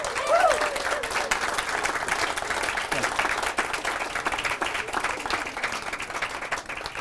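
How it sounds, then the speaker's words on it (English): A crowd at a residents' environmental fundraiser applauds, sustained, dense clapping that carries on evenly for several seconds, with a few scattered voices and cheers mixed in. "because you applauded, then I'm going to quit"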